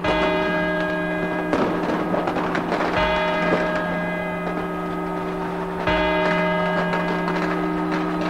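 Resonant church clock bells strike the quarter-hour chimes at intervals of about one and a half to three seconds, each tone lingering and overlapping the next, loud and near.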